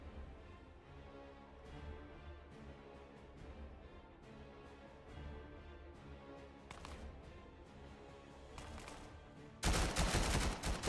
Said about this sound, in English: A little bit of gunshots happening there.